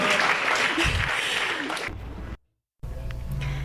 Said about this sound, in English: I think it deserves another big round of applause